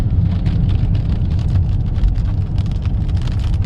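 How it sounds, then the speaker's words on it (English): Rain beginning to fall outdoors in New Paltz, New York: a dense, close patter of drops making a constant hiss with a low rumble underneath, no voices. "Right as it's starting to rain."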